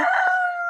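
A backyard rooster lets out a single close, loud, sustained crow with a steady, ringing tone that fades slightly at the end.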